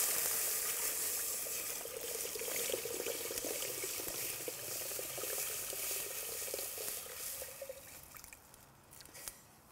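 Water poured into a pot of lamb cooking for nwasser, a loud bubbling hiss and sizzle with dripping and spattering that gradually eases toward the end, heard close up.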